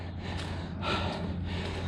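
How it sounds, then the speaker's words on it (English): Heavy, rhythmic breathing from a walker resting after a steep climb, close and loud, with several deep gasping inhales and exhales one after another and no talking. "Forgive the heavy breathing."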